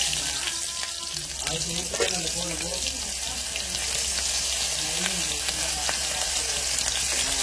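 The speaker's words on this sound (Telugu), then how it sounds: "ఆయిల్ హీట్ ఎక్కింది కదండి, ఉల్లిపాయలు వేసుకోండి" Onions frying in hot oil in a home kitchen, a steady dense sizzle with faint scraping, as though running water or a tap were mixed in, and brief soft voice sounds in the background.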